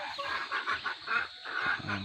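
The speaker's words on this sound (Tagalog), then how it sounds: "nagpapakain ako ng aking mga alagang manok" Pet chickens being fed at home, several birds clucking and chattering close by in short, overlapping bursts with no talk.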